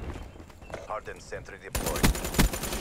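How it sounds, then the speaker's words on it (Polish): Long-range gunfire in Call of Duty Black Ops 3 multiplayer: a loud burst of shots after a quieter stretch, with two sharp, strong reports standing out near the end. "Daleki strzał"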